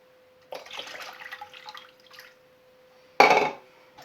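Water pours into a pot to make broth for split pea soup, a short splashing stream that stops, then a second louder, brief pour, close by.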